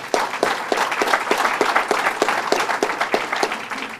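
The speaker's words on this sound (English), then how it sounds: "Let's give them a round of applause" An audience at a Staten Island government event on the fentanyl crisis breaks into loud, steady applause, individual claps standing out in a quick, even rhythm throughout.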